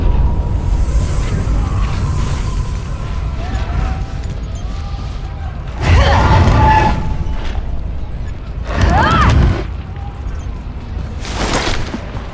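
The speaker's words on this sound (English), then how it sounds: "Sounds like more of the same up ahead. Explosions and mass destruction." Deep booming explosions and crashing destruction in the fantasy action game Hunted: The Demon's Forge. Rumbling blasts recur every few seconds over a dark ambient backdrop with faint voices.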